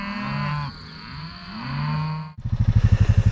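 A cattle herd of cows with big bull calves gives two long, deep, loud moos close by. A rapid throbbing rumble follows at the end.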